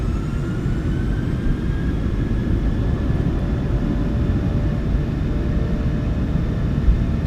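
The engines of a PMDG 737-800 in a flight simulator spool up to takeoff power, a loud, steady jet roar with a deep rumble underneath and faint rising whine tones drifting through it.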